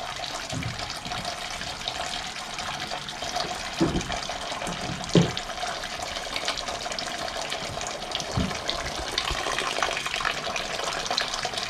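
Coolant water drains from a radiator hose on a Toyota MR-S (ZZW30) during radiator removal, making a continuous close splashing, trickling flow with a few clunks and knocks, and no talk.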